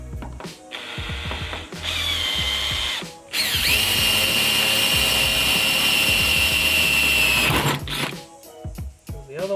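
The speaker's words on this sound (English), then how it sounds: "We've got a 5mm drill bit and we'll drill these 2 holes." Power drill with a 5mm bit drilling holes in an R32 Skyline boot for a drag wing mount, a short burst followed by a long steady high whine of about four seconds, close up.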